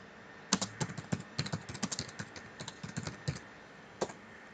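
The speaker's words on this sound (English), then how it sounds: "Go to your Chrome browser, type CodeBlocks download." Keys click on a computer keyboard as a search is typed into the Chrome browser, quick irregular bursts of sharp taps close by, then a pause and one final keystroke.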